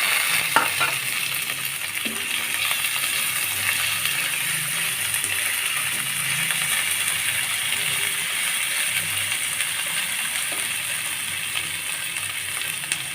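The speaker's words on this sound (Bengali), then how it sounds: "দারচিনি এলাচ মশলাগুলো দিয়ে আমি ভালোভাবে নেড়ে চেড়ে নিয়ে" Cinnamon, cardamom and whole spices fry in hot oil in a pan for a fish curry, producing a steady close sizzle with scattered scraping and clinking from stirring, and no one speaks.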